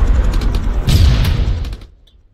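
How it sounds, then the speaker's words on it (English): A helicopter crashes onto the player in Arma 3, a loud, heavy rumbling impact with metallic crunching and creaking that roars for about two seconds, then quickly drops away to near silence. "Helicopter has fallen on me."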